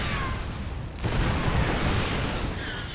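Planetary fortress and siege tanks firing in StarCraft II, heavy booming artillery blasts rolling together into a dense, continuous barrage with no voices over it.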